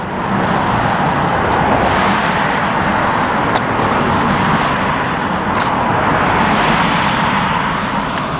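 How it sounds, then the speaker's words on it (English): A jet airliner taking off at LAX roars steadily at a distance, a broad continuous engine rush blended with nearby road traffic noise for several seconds. "in and out, airplane taking off."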